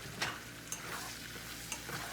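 Garlic powder is stirred into melted butter in a pan for a sauce, giving short scraping strokes over a soft, continuous sizzle, with no voices.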